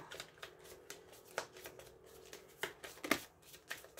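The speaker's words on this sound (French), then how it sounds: "Je coupe et je prends une à l'intérieur au hasard." A deck of tarot cards being shuffled and cut by hand, with close, quiet riffling flutters and soft slaps in irregular bursts, faint against a hushed room.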